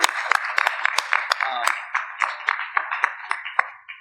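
A small group claps for the presenting teams, sparse, fairly quiet individual hand claps, close and irregular, tapering off toward the end.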